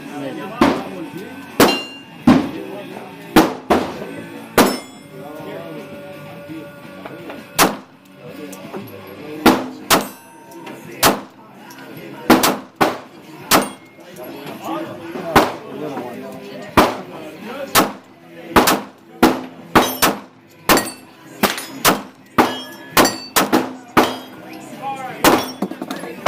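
A SCCY CPX-3 pistol fires roughly thirty sharp, loud shots in irregular strings and quick bursts at close range, with brief pauses between groups.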